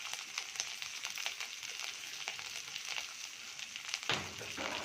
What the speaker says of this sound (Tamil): இந்த சாம்பார் பொடி நல்லா எண்ணெயில் வதக்கிட்டு